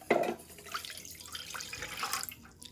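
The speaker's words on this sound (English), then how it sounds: "In my medium saucepan, we're going to add in 1½ cups of water." Water poured into a medium saucepan in a home kitchen, measured out as one and a half cups: a close, soft splashing pour that starts with a brief louder gush and continues as a steady trickle, no voices.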